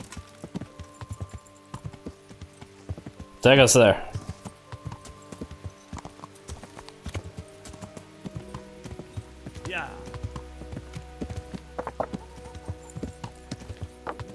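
Horse hooves clip-clop briefly in a quick burst in the video game Kingdom Come: Deliverance, with a faint whinny later, under intermittent talking and game background sounds.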